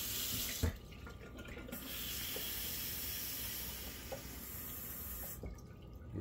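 Water runs steadily from a kitchen tap in a continuous hiss while measuring water for muffin batter, with a couple of brief clatters partway through and near the end.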